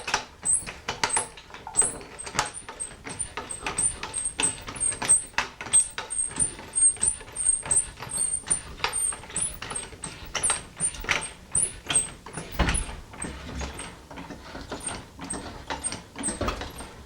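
Car jack clicking and ratcheting as it is positioned and worked under a car, a long run of sharp metallic clicks and scrapes in uneven rhythm, close and unaccompanied by talk.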